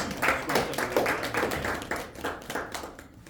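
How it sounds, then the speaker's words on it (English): Applause from an audience at a Toastmasters club meeting: many hands clapping together in a dense, steady patter for a few seconds that thins slightly toward the end, with no voices. "Please give us a huge round of applause"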